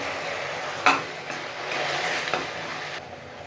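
Chopped onions sauté in a pan for Tamil-style mint rice, giving a steady, moderately loud sizzle with a couple of sharp utensil clinks against the pan partway through.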